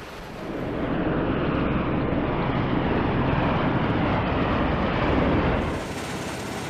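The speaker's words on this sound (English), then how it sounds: "The Bell Boeing V-22 Osprey is a multi-purpose aircraft that uniquely couples the vertical lift of a helicopter with the speed and range of a fixed-wing aircraft." Bell Boeing V-22 Osprey tiltrotor aircraft engines give a loud, steady, broadband roar and rumble that holds for several seconds, then eases slightly toward the end, with no voices.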